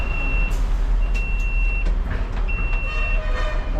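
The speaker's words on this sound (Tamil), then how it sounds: "அடுத்ததாக பஸ் நிற்கிறது" A city MTC bus, route 104CX, runs noisily on a broad road near Porur, with steady engine rumble, a repeated high reversing-style beep sounding three times, and scattered clunks.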